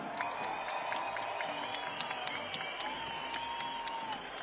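A crowd at a lead climbing semi-final cheers and applauds for climber Jane Kim, a steady distant roar of clapping and shouts that holds through the whole stretch without a break.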